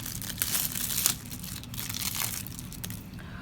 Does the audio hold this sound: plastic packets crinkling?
yes